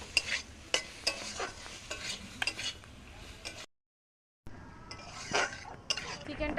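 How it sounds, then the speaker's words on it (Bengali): Fried chicken pieces being stirred into spiced masala in a pan, with rhythmic scraping and clinking of a spoon over a soft sizzle, broken by a brief silence before the stirring resumes. "চিকেনটা দিয়ে একটু নাড়িয়ে নিয়েছি"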